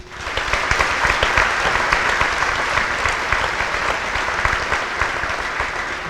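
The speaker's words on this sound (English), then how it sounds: "Please join us in a big round of applause" An audience at a veterans' remembrance event applauds, a loud, dense, steady clapping that continues evenly without a break.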